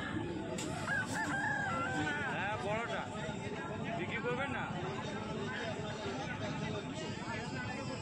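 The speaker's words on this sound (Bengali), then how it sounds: "পরের একটা দুর্দান্ত মোরগ দেখছেন," An Aseel rooster, about two years old and over 3.5 kg, crows at a busy weekly livestock market in Jhargram, West Bengal. The crow rises above constant crowd babble and clucking, with people talking throughout.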